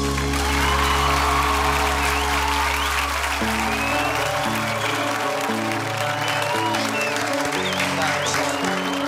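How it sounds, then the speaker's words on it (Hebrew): Studio audience at a televised singing competition battle round applauds steadily for two contestants, a loud continuous clapping wash over a fading musical chord, with no talk. "מחיאות כפיים לניב ולמיכל!"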